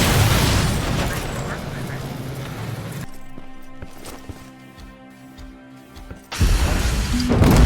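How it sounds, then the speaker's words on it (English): In Terminator: Resistance, hacked turrets bring down a T-47 amid heavy gunfire and explosions, then the noise drops to a quieter mechanical hum before a loud burst of destruction returns; a voice talks over it. "I hacked all of the turrets to take down this T-47, and here we go, it's down."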